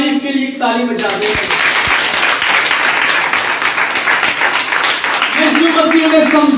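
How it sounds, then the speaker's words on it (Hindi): A worship gathering claps in praise of Jesus, rapid dense applause that holds for several seconds. A preacher's voice sounds at the very start, and talk or song returns near the end over the fading clapping. "यीशु की तारीफ के लिए ताली बजा दे"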